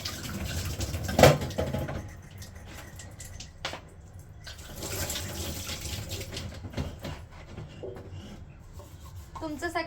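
Water runs and splashes in a sink while dishes are washed by hand in a small rented city room, a soft steady flow with clinks and drips, fairly quiet and close.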